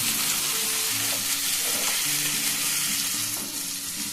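Small fish fry in a pan, an even, continuous sizzle that stays close and loud throughout, with a few faint tonal sounds in the background and no talking.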